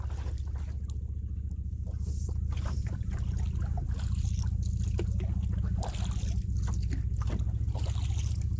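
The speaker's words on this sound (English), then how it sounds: "This is the most paddling I've done at one time since I got here." Paddling a boat on water in the woods: rhythmic dips and sloshes of the blade recurring at a steady pace, close to the listener, over a low constant rumble, with no talk.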